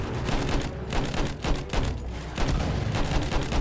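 Rapid, dense gunfire fills a Battlefield 1 match, a loud overlapping barrage of shots and booms in quick bursts with no talk.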